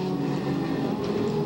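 Dwarf cars racing in a heat race at Marysville Raceway, a steady loud engine roar with a buzzing, slightly rising whine from a pack of small race cars, continuous and fairly near.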